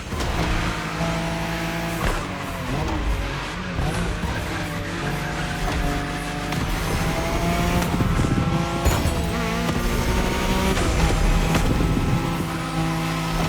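A Nissan Skyline races in The Crew Motorfest, its engine loud and steady with rising and falling revs, bursts of acceleration, and scattered tire squeals, with game music or effects layered underneath throughout.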